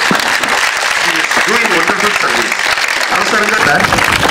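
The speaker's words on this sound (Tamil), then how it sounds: "கைத்தட்டு" A crowd at a heart day awareness event held by a Tirunelveli hospital claps loudly and continuously, while voices speak over the applause throughout.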